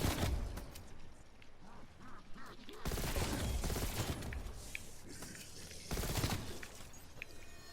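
Bursts of M4A1 rifle gunfire in the video game Cold War Zombies, with sharp rapid volleys in clustered bursts and loud onsets near three and six seconds over a busy game soundscape.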